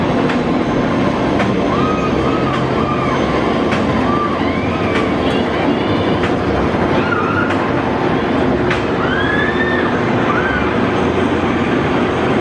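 Roller coaster train running at SeaWorld Orlando, a continuous loud rumbling roar with rattling track noise throughout, with faint screams rising and falling in the background.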